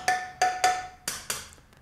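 The end of a screwdriver tapping bicycle wheel spokes: five quick metallic pings, the first three ringing with a bright tone and the last two duller, close and alone.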